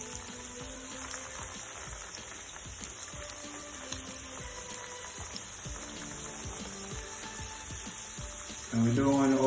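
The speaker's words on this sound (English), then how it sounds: "you wanna go ahead and add your breadfruit balls to the oil" Breadfruit balls frying in hot oil give a steady, dense crackle throughout, with a louder burst of sizzling near the end as more balls drop in.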